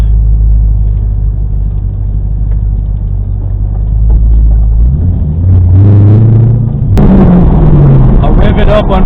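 A car engine revs under a bridge with the windows rolled down. A loud, steady low rumble gives way to rising and falling revs that echo near and full.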